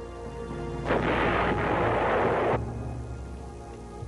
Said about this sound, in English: Some bases, including Khe Sanh, also had powerful 155mm howitzers. They could lob a heavy shell over 9 miles at a rate of 4 rounds a minute.